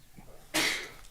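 A single abrupt sneeze bursts out during a city council meeting, one sharp breathy blast that trails off quickly, fairly close in a quiet chamber.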